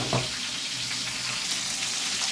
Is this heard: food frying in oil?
yes